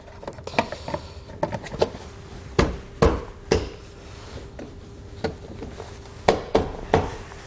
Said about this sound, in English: we just need to make a slight cut here with some diagonal cutters or some tin snips